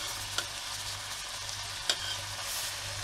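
Courgette, carrots and turnips sauté in a pot for couscous, giving a steady soft sizzle with a low hum beneath and two brief clinks of stirring, close and moderately quiet, with no talking.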